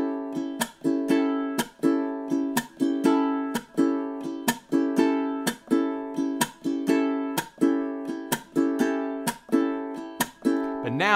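Ukulele strumming a steady chunked pattern on one chord from a tune, regular muted chops punctuating ringing strums in even time, close and clear with no talking.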